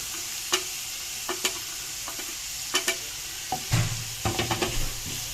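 Vegetables and hot pepper sautéing in a pan for Alexandrian-style fava beans: a low constant sizzle with scattered spoon clinks and scrapes, including a quick cluster of taps near the end, close by.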